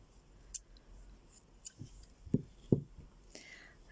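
Scissors snip off wine-coloured crochet yarn while working the Jacobs Ladder pattern, giving a few faint, close, crisp cuts spaced over a quiet room background.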